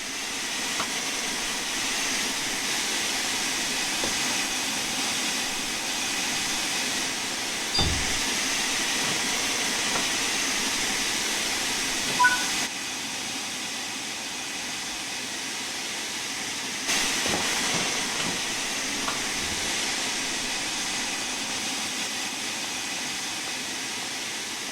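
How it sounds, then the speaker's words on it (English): Train doors open in a Train Sim World 5 railway simulation, with a steady hiss and rumble of the stationary train and a few soft mechanical clunks and thuds as passengers board. "To allow passengers to board, you'll need to open the doors."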